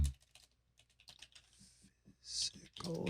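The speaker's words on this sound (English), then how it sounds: "Listen for the sounds of typing" Rapid typing on a computer keyboard, a run of light, uneven clicks and taps at close range with a few louder bursts near the end.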